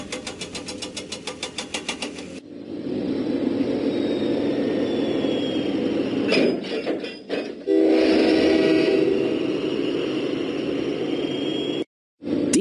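A train engine from a Thomas the Tank Engine children's video game rumbles loudly and continuously, with a brief chugging rhythm at the start, a horn-like tone, and short cuts in the sound.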